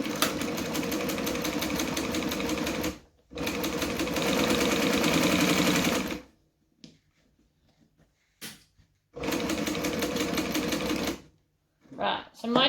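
A sewing machine stitching along the edge of a bag lining, running in three steady bursts of rapid mechanical chatter separated by short pauses, close and clear.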